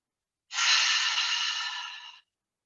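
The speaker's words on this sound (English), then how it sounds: "One more big breath in and out together." Deep, steady breath released during a yoga session, one long airy exhale lasting under two seconds, close and clear against silence.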